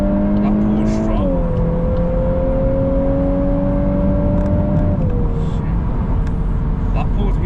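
A VW Golf R Mk8 with a full exhaust system accelerates hard, its engine note climbing steadily through the gears with a clear drop at each upshift, loud and close, as someone talks over it.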